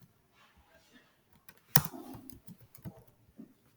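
Soft typing on a computer keyboard while coding in React JS: faint scattered key taps with one sharper, louder keystroke near the middle, quiet and close.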